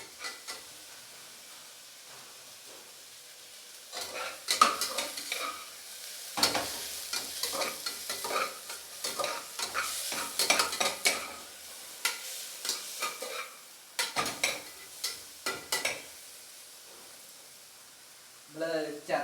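Green chilies and tomato stir-fry for beef fry in a hot pan, a steady close sizzle broken by stirring scrapes and clatter, with a voice talking intermittently over it.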